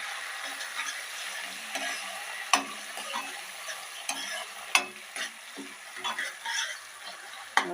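Chopped tomatoes and hot green chillies sautéing in a pan for a fried green corn chevdo: a steady close sizzle broken by sharp spoon scrapes and clicks as the mix is stirred.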